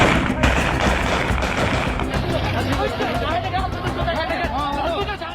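Agitated crowd noise in Pakistan during food shortages, with shouting voices and overlapping chatter, punctuated by sharp bangs suggestive of gunshots.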